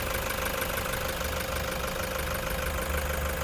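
A white 2016 Toyota Commuter van with a 3.0 diesel engine idles with a steady, loud, continuous clatter and knock that runs evenly from start to finish, with no voices.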